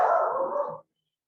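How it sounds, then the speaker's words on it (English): A dog gives one loud, close bark that lasts under a second and then stops abruptly, followed by silence. "I apologize for my dog."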